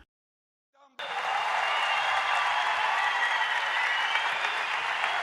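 Applause at a CHP political party candidate introduction meeting: after a brief near-silence, loud, dense clapping from a large crowd bursts in and continues steadily to the end.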